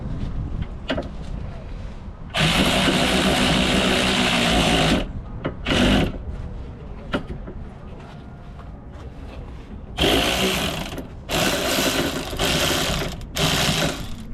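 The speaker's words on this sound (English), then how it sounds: "Now I'm gonna get my electric ratchet." An electric ratchet works a rear wheel bearing bolt on a 2011–2023 Dodge Charger or Challenger, giving loud, close whirring bursts of a few seconds each, separated by quieter gaps with small clicks and handling noises.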